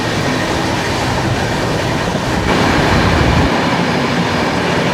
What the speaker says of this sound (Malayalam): ഡെറാഡൂണിൽ നിന്ന് കോട്ടയിലേക്ക് പോകുന്ന നന്ദാദേവി എക്സ്പ്രസ് ആയിരിക്കും.